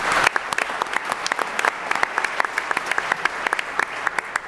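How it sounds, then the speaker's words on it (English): A conference audience at a talk on the opioid epidemic claps, a sparse but steady run of distinct hand claps from a modest crowd, fairly quiet and heard without speech. "I think that deserves a round of applause."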